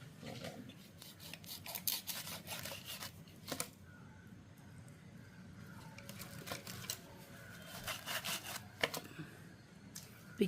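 Knife strokes cutting through seela fish on a wooden chopping block, a steady run of close, rasping chops and scrapes repeating throughout with no talk.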